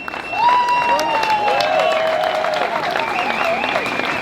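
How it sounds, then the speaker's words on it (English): Crowd applause at an outdoor rally in Geneva, a broad wash of clapping and cheering that holds steady, with whistles and sung or shouted voice tones rising over it. "I want you to give yourself a huge round of applause for being here"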